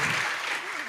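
Brief burst of audience hand clapping at an Indonesian talk on trading, a dense wash of applause lasting about a second, fairly faint.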